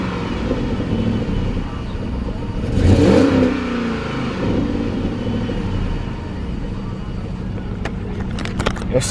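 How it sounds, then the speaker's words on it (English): A car engine starts cold and idles with a low rumble. It rises into one loud rev burst early on, then settles back to a steady idle, and the car is noted as needing exhaust work. "Let me get y'all the cold start though."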